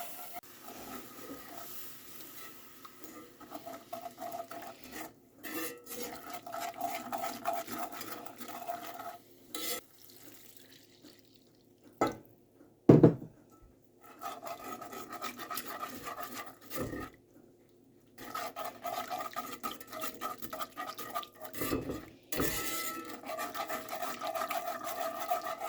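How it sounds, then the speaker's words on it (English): A whisk works broth into flour-coated vegetables in a pot for pot pie filling, producing soft, irregular scraping and stirring strokes that start and stop in bursts, with brief quiet gaps and one sharp knock. "we add the flour and we whisk it to coat the vegetables, and then we slowly add in"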